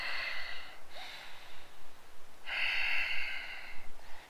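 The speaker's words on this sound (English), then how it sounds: "Breathe deep. In the nose, out the nose." Slow, deep breaths drawn in and pushed out through the nose during a power yoga core workout, two long airy exhalations separated by a quiet pause, close and fairly soft with no talking.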